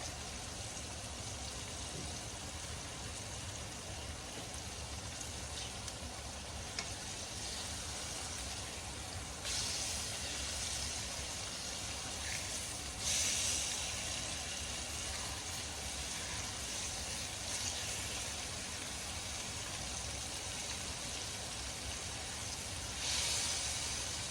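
Floured steak fries in hot grease with a steady, dense sizzle that holds for the full stretch, swelling slightly louder a few times, close up and with no talking.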